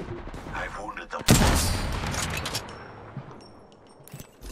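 Rapid gunfire in the shooter game Apex Legends, a loud burst of shots that trails into scattered reports and game effects, with in-game voice lines over it.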